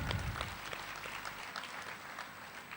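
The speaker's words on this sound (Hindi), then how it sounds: "हमारे जगन्नाथ भाई के लिए भी जोरदार तालियां।" An audience at a state organization meeting in Chhattisgarh gives a short burst of applause, fairly faint and distant, a soft continuous patter of clapping throughout.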